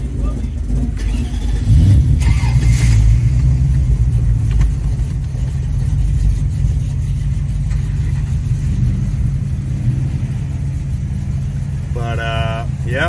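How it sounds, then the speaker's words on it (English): Infiniti Q45 at a drag strip doing a burnout, a loud, sustained engine roar and rumble held for over ten seconds, with people talking over it. "we're gonna max out the burnout."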